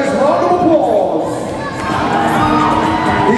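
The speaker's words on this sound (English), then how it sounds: "Come on, audience, give him a nice round of applause." Audience at a World Bodybuilding and Fitness Federation championship cheering and shouting for a competitor on stage, a loud, sustained crowd roar with whoops, dipping briefly midway before swelling again.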